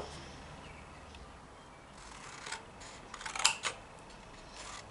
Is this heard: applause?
no